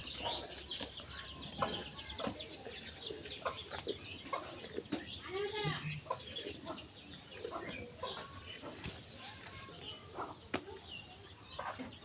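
Chickens clucking in a village yard among other farm animals, steady scattered clucks and chirps at mid distance over a busy outdoor bed of birdsong and rustling, with a brief wing flap.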